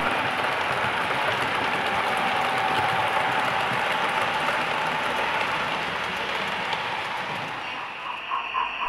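Continuous rushing rumble of a passing model train on a layout, with a faint steady hiss and clatter from a sound-fitted model steam locomotive that softens near the end.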